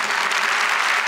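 Dense, steady applause from an audience at a priest's talk, many hands clapping continuously at an even loudness with no voices standing out.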